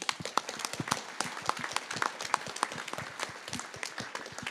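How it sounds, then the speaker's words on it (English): Scattered clapping from a convention audience at a New Zealand First gathering, a modest round of individual hand claps with no voices over it. "a round of applause for Shane"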